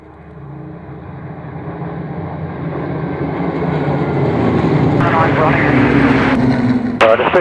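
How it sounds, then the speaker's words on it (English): Supermarine Spitfire warbirds making a nice low pass at the Duxford air show: a loud, broad engine roar that builds steadily and stays strong to the end, with crowd and commentary talk mixed underneath. "Let's see a few more Spitfires. Here we go. Look at this, nice and low pass."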